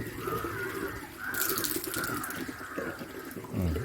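Water runs steadily from the opened tap of a natural water filter, a soft continuous splash and trickle heard fairly close with no talking.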